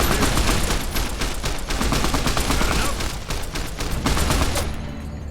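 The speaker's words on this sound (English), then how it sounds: "Screw it. Just shoot." Gunfire in a modded Fallout New Vegas fight against NCR troops: loud, continuous volleys of overlapping shots crackle nonstop for several seconds, thinning out only at the very end.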